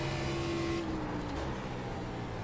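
A race car lapping the Charlotte Motor Speedway Roval, its engine droning steadily and close, with a high whine that drops in pitch as it shifts up through the gears, and no one talking.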